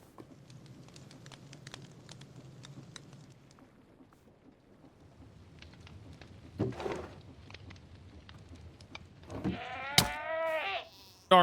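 A goat bleating in the Minecraft modpack FTB Skies 2, a short wavering cry that comes in near the end, over quiet rain and distant thunder ambience with a few faint game sounds before it.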